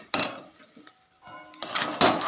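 Grated coconut being stirred in a pan with a utensil, giving bursts of scraping and clattering against the metal, loud and close, with a quieter gap in the middle.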